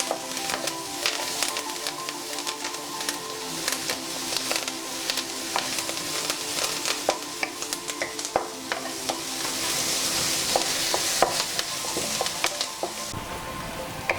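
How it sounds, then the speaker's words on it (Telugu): Green chilli pieces and curry leaves sizzle in hot oil for dhaba-style jeera rice, with a steady frying hiss and repeated scrapes and clinks of stirring throughout. "పచ్చిమిరపకాయ ముక్కలు, కరివేపాకు వేసుకొని కలుపుకుందాం."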